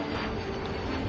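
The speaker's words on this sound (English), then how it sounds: "So a plane flying across." Airplane flying across the screen in the railway game Tiny Rails, a steady, dense engine drone that holds evenly loud for about a second with no break.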